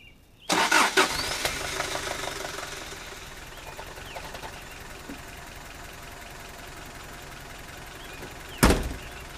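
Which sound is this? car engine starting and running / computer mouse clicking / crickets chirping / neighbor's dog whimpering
car engine starting and running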